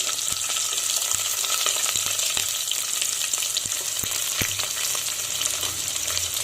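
Chopped shallots and onion frying alongside beef liver in a pan, a dense, steady close sizzle with faint scattered ticks of spattering oil throughout, no voices.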